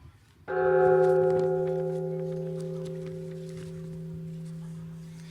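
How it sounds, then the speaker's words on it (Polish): A single deep gong is struck once, ringing loud and then slowly fading with a long, sustained metallic hum. "więc kolejny gong"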